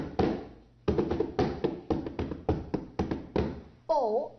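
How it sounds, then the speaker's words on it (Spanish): An empty box drummed with bare hands gives a series of hollow thumping taps in an uneven rhythm, close by, ending with a brief voice. "para ese instrumento hemos usado una caja vacía."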